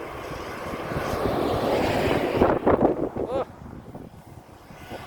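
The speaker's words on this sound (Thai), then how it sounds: "ลมก็แรง" Strong wind buffets the microphone at a road construction site near Buriram, Thailand, where a CAT vibratory roller and CAT 140K motor grader work, a loud rushing roar over low engine rumble that drops off abruptly near the end.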